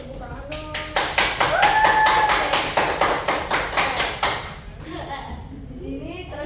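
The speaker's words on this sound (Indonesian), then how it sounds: "Tepuk tangan dong." A classroom of students in a microteaching lesson claps together in a quick, regular burst of about fifteen sharp claps, with a brief whistle-like tone partway through, then the clapping stops and faint voices and room noise remain.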